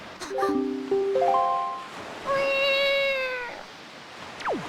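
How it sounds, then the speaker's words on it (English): Link, the boy hero of The Legend of Zelda: Wind Waker, lets out cartoonish cat meows: a few short rising mews, then a longer drawn-out meow, close and clear over faint ocean-surf ambience, with no talking. "Is that Link making a cat meow sound in an attempt to throw her off from the fact that I am a boy?"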